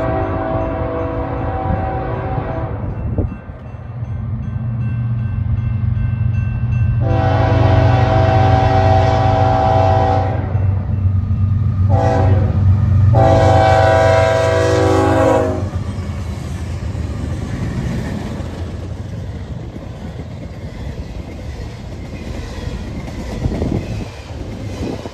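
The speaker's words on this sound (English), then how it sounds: "We got another intermodal train coming." An intermodal freight train rolls past at close range with a loud, sustained rumble of wheels and cars, while its horn sounds in several long blasts, then the roar slowly fades; no voices are heard.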